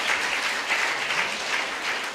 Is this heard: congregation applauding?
yes